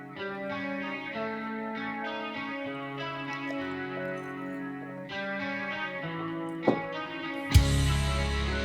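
Electric guitar run through a Zoom G3 multi-effects unit plays sustained chorded notes with a thick, processed, echoing tone, ending in a louder strummed burst; no one speaks.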